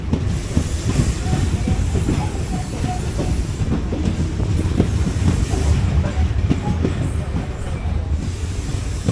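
The 17235 Nagercoil Express train at platform 1 as its journey ends, with a continuous heavy rumble, hissing and clattering wheels close by.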